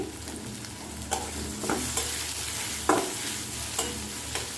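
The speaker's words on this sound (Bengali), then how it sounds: "তেলটা আমার গরম হয়ে গেছে আমি এখন পেঁয়াজ কুচি দিয়ে দিলাম পেঁয়াজটা আমি একটু ভালো করে ভেজে নিব" Chopped onion and torn bay leaves frying in hot oil, a steady close sizzle broken by several sharp stirring scrapes of a spoon in the pan, with no speech.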